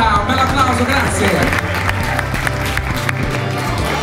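Applause and crowd noise fill a beauty pageant hall for a hairstyle contest in Italy, steady and close throughout, with music-like tones running underneath.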